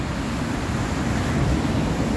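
Sea waves on the shore at Vila do Conde make a continuous loud wash of surf mixed with rushing wind noise, with no voices.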